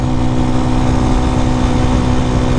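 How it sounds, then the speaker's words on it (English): A 2019 RPS Hawk DLX 250 motorcycle with a performance exhaust gives a loud, steady engine drone with a deep exhaust rumble, holding constant for a few seconds at moderate speed, with no speech. "This exhaust is loud."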